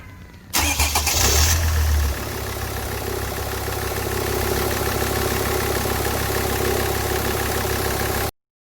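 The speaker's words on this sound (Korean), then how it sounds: "한번더 시동 걸어봐 걸어봐 시동 걸어봐" A SsangYong Rexton that stalled while driving is cranked and fires, its engine catching after a brief starter whir and then settling into a steady, loud idle that runs without talk.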